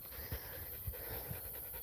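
Rescue dogs panting in short breathy bursts, close and fairly quiet, with a few soft rhythmic huffs over a steady hiss of background noise.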